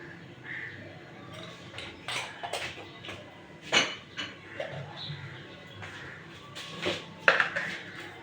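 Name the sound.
lentils and turmeric added to a cooking pot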